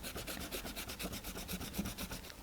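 A pencil eraser rubs on paper over a drawing of Mew, making a close, soft rasping scrubbed back and forth in a quick, regular rhythm, with no voices.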